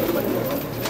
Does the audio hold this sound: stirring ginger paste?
no